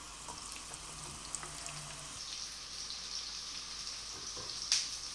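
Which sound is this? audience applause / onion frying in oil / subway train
onion frying in oil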